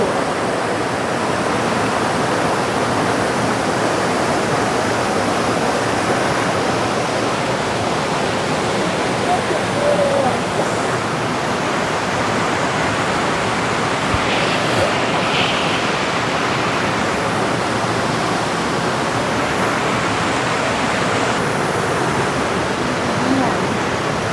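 A waterfall roars steadily behind a speaker in a natural outdoor setting, a dense continuous wash of falling water filling the whole scene at close range with no breaks.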